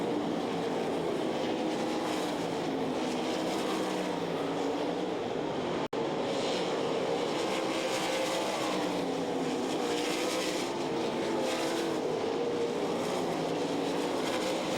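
Sprint cars race in a World of Outlaws C-Main at the Knoxville Nationals, giving a continuous, fairly distant roar of engines that swells and fades slightly as the field circulates, with no voices.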